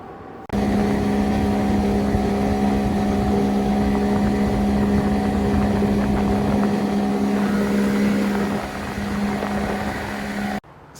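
Boat fitted with an outboard jet engine on a test ride, giving a steady, loud drone with a strong tonal hum that holds for about eight seconds, then drops slightly in level before the end; no voices.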